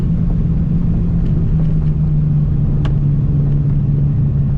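A 1000+ whp MKIV Toyota Supra engine runs with a loud, steady low rumble and a faint whine, close and alone with no voices.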